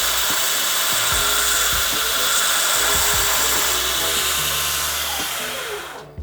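Small carbide belt dresser pressed against a glazed belt running on a grinder in a knife forge, giving a loud, steady, harsh hiss and whine that fades out at the end.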